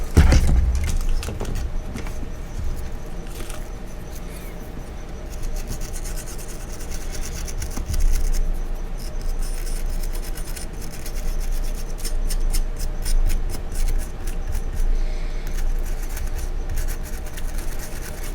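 An abrasive scrubbing pad rubbing flux off a modded Xbox circuit board, a close, continuous rough scraping in repeated back-and-forth strokes at a fairly loud level, with no talking.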